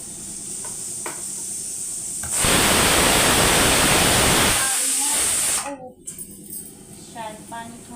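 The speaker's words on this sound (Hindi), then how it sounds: "शायद पानी थोड़ा ज़्यादा डल गया, तो कुकर में से सीटी लगने में पानी निकलने लगा है।" A pressure cooker, apparently overfilled with water, hisses loudly in a steady, dense rush through its whistle and spits water. The hiss rises abruptly, holds for about three seconds, then cuts off, with softer kitchen sounds before and after.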